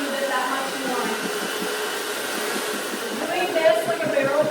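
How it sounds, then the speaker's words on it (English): A hair dryer blows with a continuous loud whirring hum, steady throughout and rising slightly near the end, with faint talk underneath. "when you keep that hair dryer flowing with the length of the hair"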